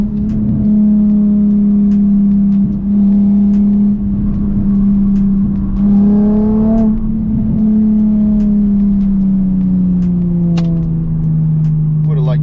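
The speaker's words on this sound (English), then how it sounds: "We'll do a couple downshifts." A Nissan 350Z with a Flashark Y-pipe single exhaust cruising and downshifting on an off-ramp, with a steady loud engine drone from inside the car that rises briefly with each downshift blip, then settles lower.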